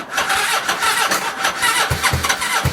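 A custom cafe racer motorcycle's engine cranks with choke on, giving a rapid rough churning that catches into low sputtering firing pulses toward the end, close and loud.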